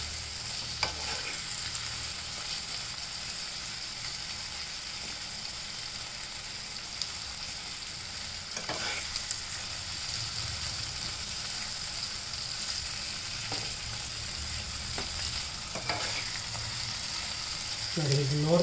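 Onions fry in a pan for brinjal chutney with a steady, soft, broadband sizzle that runs unbroken for the whole stretch, with a few brief scraping stirs and a louder clatter near the end.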